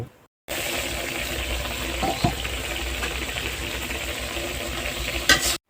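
A pan of small fish sizzles loudly and steadily while a spatula scrapes and stirs, with a brief clatter near the end.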